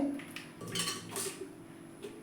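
A ladle clinks and scrapes against a metal vessel while stirring boiled tomato pulp to draw out the juice, a few faint, close metallic taps over a brief stretch.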